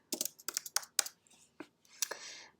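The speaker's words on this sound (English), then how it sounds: "So let's type some text." Keys clacking on a computer keyboard in a short burst of separate strokes with uneven spacing, close by and crisp, ending in a brief run of faster soft taps.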